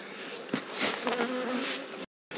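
Honey bees shaken from a frame during a brood inspection of a hive drone in a dense, steady buzz close up, a few louder passes rising above the swarm before an abrupt cut.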